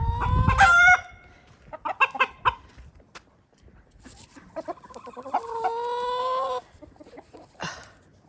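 Chickens in a muddy spring chicken yard, a rooster crowing near the start and hens clucking and squawking in bursts that follow, close and clear with no talk.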